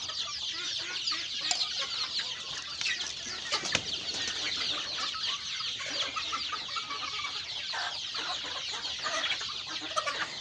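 Chickens cluck steadily in a noisy farm setting, a dense chatter of many birds with occasional louder squawks throughout.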